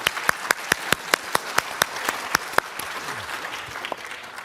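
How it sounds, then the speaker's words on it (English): An audience at a Summer Davos panel of prime ministers in Tianjin begins with a few sharp, separate claps that quickly fill out into a steady wash of applause in a large hall. "let's give this great panel an extra applause."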